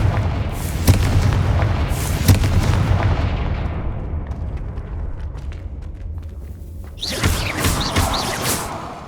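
A fiery Confringo blasting spell from the Hogwarts Legacy video game goes off in loud booming bursts, with several heavy explosive thuds early on and a bright crackling blast near the end, alone without talk.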